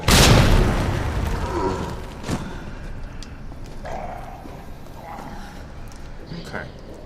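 A grenade goes off in the Resident Evil 2 Remake with one loud, close boom that fades into a long rumbling tail. Thuds and scattered game sounds follow, with talking over them.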